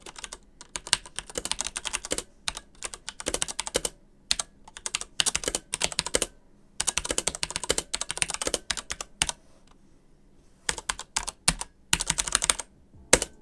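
Rapid typing on a Corsair K63 mechanical keyboard with Cherry MX Red switches and no O-rings, in bursts with short pauses, crisp clacky keystrokes close up, no voices.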